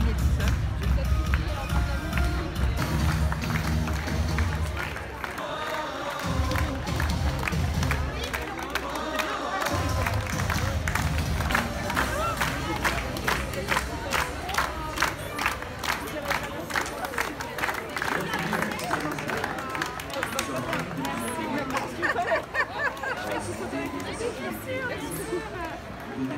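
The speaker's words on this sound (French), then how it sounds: "Il y a foule, il y a la télé, il y a plein de gens." A dense crowd fills the reopening of Disneyland with steady babble, scattered clapping and shuffling movement, nearby voices talking over the continuous hubbub.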